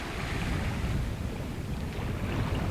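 The small sailboat Mingming II under way on the Arctic sea, with a steady rush of wind and water washing past the hull, a constant broad roar with no voices.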